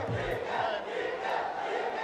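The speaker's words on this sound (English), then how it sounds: "these were the chants that started" Crowd chanting at a political event during a live trade summit press conference, a loud massed roar of voices with rhythmic shouted surges, continuous and close.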